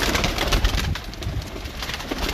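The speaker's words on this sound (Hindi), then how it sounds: "ये जी मज वाला कबूतर आपके सामने" Breeder pigeons at a pigeon fancier's loft cooing in low, soft bursts amid steady bird noise, fairly close and continuous throughout.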